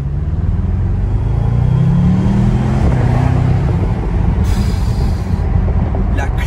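A 550 hp Bentley GTC convertible accelerates hard with a deep, loud engine roar whose pitch rises and then drops at a gear change, heard from inside over road and wind noise.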